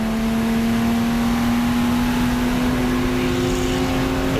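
Turbocharged Porsche 935K race car engine holding a loud, steady drone with a strong tonal whine, close and unbroken throughout.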